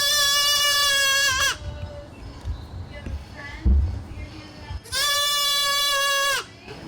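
Baby goats at Oma Goat's Farm in Barnstable, Cape Cod, give two loud, sustained bleats at the start and end, with quieter farmyard shuffling and a thump between them.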